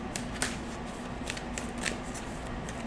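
Rumi oracle cards shuffled by hand, a steady soft papery riffle with a few brief louder flicks, close and fairly quiet with no talking.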